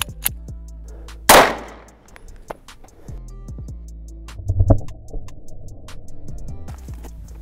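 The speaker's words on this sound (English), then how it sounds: "This is the 9mm out of the Walther PPS." A 9mm Walther PPS pistol fired into a stack of textbooks: one loud, sharp gunshot near the start, followed by fainter thuds and clattering, without any talking.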